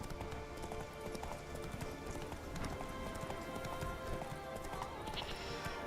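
A horse galloping in The Witcher 3, with steady, rapid clip-clop hoofbeats that run close and continuous for several seconds over a faint wash of background sound.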